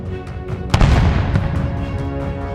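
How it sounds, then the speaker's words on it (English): Ukrainian artillery shelling a Russian convoy of tanks and BMPs: a heavy boom lands sharply, followed by rumbling blasts and crackling impacts, loud and close, with no voices. "Ukrainian artillery started shelling the convoy"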